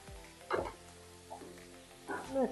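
Vegetables tipped into a hot pan for a paneer vegetable chop filling, giving a soft sizzle with a couple of louder stirring bursts at the start and end, close and fairly quiet.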